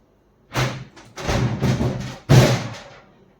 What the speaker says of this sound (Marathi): हे जे कपाट आहे ना हे लोखंडी कपाट आहे आणि याचं जे डोर आहे ते खराब झालेलं आहे त्यामुळे याचा जो आवाज आहे तो भरपूर येत आहे